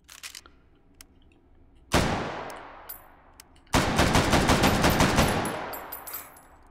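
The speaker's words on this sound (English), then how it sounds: "Fire off a couple rounds." Two loud gunshots from a Mossberg shotgun fired in the VR game Hot Dogs, Horseshoes & Hand Grenades, each a sharp crack with a long ringing decay, the second heavier and trailing off slowly, with no talk.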